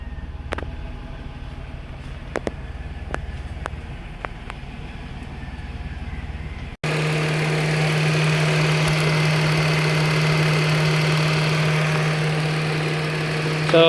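Mitsubishi Mirage engine idling steadily during overheating troubleshooting, first half quieter with repeated clicks, then the radiator fan kicks on, adding a loud continuous whir and hum over the running engine. No talking.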